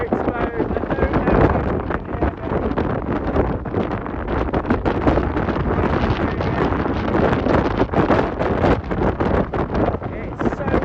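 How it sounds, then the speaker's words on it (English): Strong wind of about 50 mph roars and buffets steadily against the microphone while wild camping in Snowdonia, loud and gusty throughout with no letup. "It's so windy."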